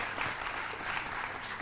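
A studio audience applauding on a midday television show, steady clapping from a crowd at moderate distance, fairly quiet and even throughout the short burst.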